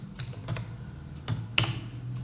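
Computer keys being struck during Python coding, a few separate clacks spread over a couple of seconds with a low steady hum underneath, close and moderately loud, with no voices.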